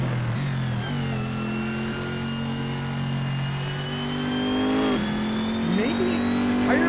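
Race car engine in the Assetto Corsa racing game on PS4, a steady loud drone that shifts pitch through gear changes and revs, continuous for several seconds.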